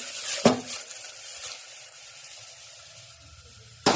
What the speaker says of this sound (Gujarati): મસ્ત મજાનો વઘાર થઈ ગયો છે.